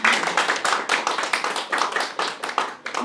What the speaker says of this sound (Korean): 모두 환영의 박수 부탁드립니다